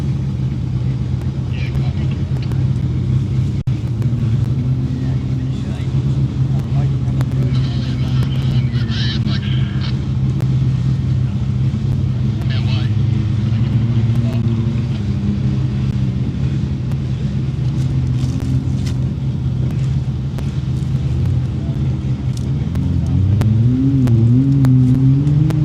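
A Can-Am off-road vehicle's engine drones steadily as it climbs a hill on a rough trail, a continuous loud rumble with rising revs near the end.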